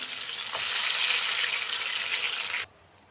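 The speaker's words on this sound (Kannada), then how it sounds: "ಬಿಸಿಯಾಗಿ ಆಯಿಲ್ ಹಾಕಿ ಫ್ರೈ ಹಾಕಿಡಬೇಕು" Kerala-style banana fritters (ripe banana bajji) sizzling in hot oil, a loud, steady close crackle that runs unbroken, then cuts off abruptly near the end, leaving quiet.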